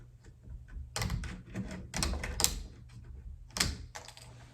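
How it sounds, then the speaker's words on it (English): Wire cutters snip and handle a wire mesh screen on a DIY concrete fire pit, giving several close, sharp metallic clicks and rustles in irregular bursts with a low hum underneath. "I need to trim a little wire off here"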